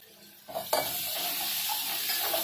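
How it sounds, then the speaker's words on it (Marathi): Mustard seeds, cumin and asafoetida hit hot oil with green chilli, ginger and garlic paste for a spinach gravy, bursting into a loud, steady close-up sizzle after a quiet start, with occasional faint pops. "थोडा राई आणि जिराची पण फोडणी देऊया"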